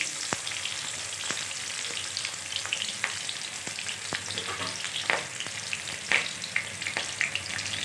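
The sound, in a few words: onion frying in oil with mustard seeds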